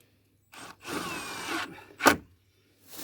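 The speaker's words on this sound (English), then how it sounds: "I'm just putting a couple of screws in each plank" A power drill drives screws into wooden planks, heard as a couple of short close bursts of whirring with a sharp higher burst after them and a brief start at the end.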